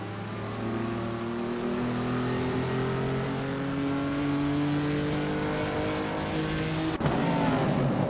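Several engines drone and rev steadily in a racing video game, with a 1967 Hillman Impegachi among the cars, holding long rising tones before a sharp break near the end.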